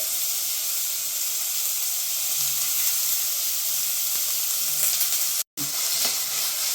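Onions and green chillies fry steadily in hot oil for a mutton capsicum curry, a close, loud, continuous sizzle with no voices, broken only by a brief dropout near the end.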